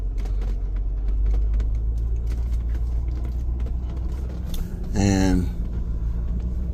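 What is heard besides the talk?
big truck dumping feed meal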